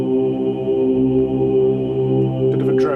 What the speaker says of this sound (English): it's called atmospheric horns I think they're called